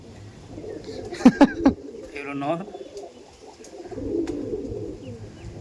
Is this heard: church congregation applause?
no